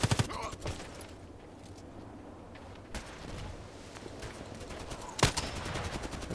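Gunfire from a sniper video game: a few sharp shots, one near the start, one around three seconds and a loud crack near the end, over a low rumbling background with faint voices.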